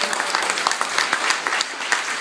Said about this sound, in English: let's give Joe a nice round of applause.